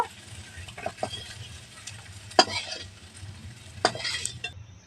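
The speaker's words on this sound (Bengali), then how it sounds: "এবার এটা কিছুক্ষণ ধরে ভাজা ভাজা করে নেবো সয়াবিনটাকে" Soybean chunks frying in oil in a pan for Bengali soya chow, with a steady low sizzle and a few sharp spatula scrapes and clinks against the pan.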